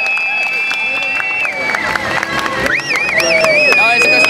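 Crowd noise at an Olympic handball match between Iceland and Russia, with Icelandic fans in the stands cheering and shouting alongside Chinese cheerleaders, a loud dense roar with whistle-like tones throughout.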